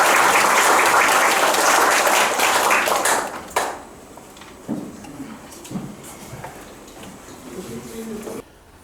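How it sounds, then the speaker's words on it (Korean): Audience applause welcomes a speaker at a Korean lecture event, a loud dense burst of clapping for about three seconds that cuts off and gives way to scattered claps and quiet room noise. "큰 박수로 맞이해 주시기 바랍니다"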